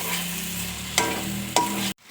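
Fried onions and boiled chana dal sizzle and are stirred in a pan, a loud continuous frying hiss broken by two sharp spatula scrapes, then cut off abruptly near the end.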